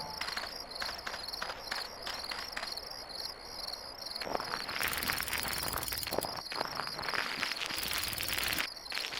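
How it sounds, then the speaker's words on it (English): Crickets and other insects chirp continuously at night on a farm in the GameCube game Barnyard, a dense pulsing chorus that swells louder halfway through. "At nighttime you will hear the insects and so much more"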